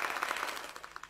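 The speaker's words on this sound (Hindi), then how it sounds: "अरे तालियां बजाकर आप सब निवेदन करें दादा से।" An audience at a Hindi poetry gathering claps in a quick, brief burst of rapid, evenly spaced hand claps, faint and close together, lasting about a second.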